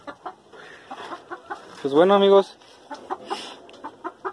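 A hen gives soft, scattered clucks close by, then one loud drawn-out squawk in the middle, while someone talks over it in Spanish.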